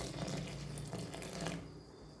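Water is poured steadily into thick dosa batter, a continuous close splashing pour that fills nearly the whole stretch before tapering off.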